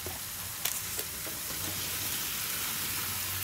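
Sayote and carrot sauté with shrimp in a hot pan, a soft continuous sizzle with a couple of light utensil taps near the start, steady and close with no talking.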